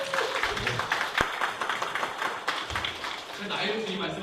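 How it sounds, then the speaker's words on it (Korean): A church congregation claps in steady applause, sustained and moderately loud, with a voice speaking in Korean over the clapping. "박수 한번 부탁합니다."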